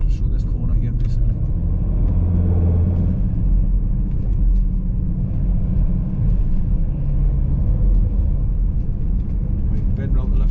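Car driving through a village near Askrigg, a loud steady interior engine and road rumble heard from inside the vehicle, with someone talking over it throughout.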